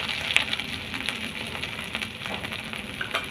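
Green chillies, five-spice and grated ginger frying in hot oil, a steady close crackling sizzle with scattered pops and spits throughout, no voices.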